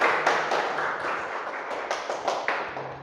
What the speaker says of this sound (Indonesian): Tepuk tangan dulu untuk Zainul Arifin yang sudah presentasi dengan baik